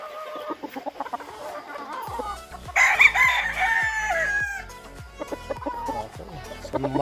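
Gilmore gamefowl chickens in a breeding pen cluck repeatedly, and a rooster lets out one bright crow in the middle, all close and fairly loud.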